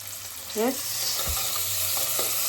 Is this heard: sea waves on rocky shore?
no